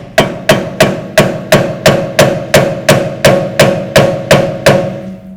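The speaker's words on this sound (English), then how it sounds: "after some perseverance of hammering away, the ear broke off some more" Metal hammer striking a corroded cable ear in a steady series of about twelve hard, ringing blows, evenly spaced and loud, with no voices.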